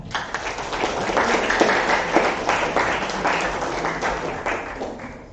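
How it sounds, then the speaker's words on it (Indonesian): Students at a school event at SMK Negeri 7 Semarang clap together in sustained, dense applause that holds evenly for several seconds with scattered sharper claps. "Tepuk tangan dong."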